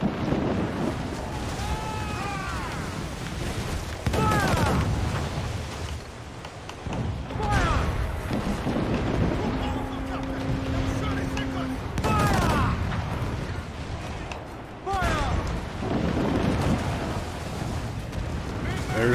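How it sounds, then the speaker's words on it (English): Naval fort mortars fire in the Assassin's Creed IV Black Flag game, a series of heavy booming blasts every few seconds over constant wind and sea noise, with a short sustained tone partway through. "These are some real fucking mortars right here"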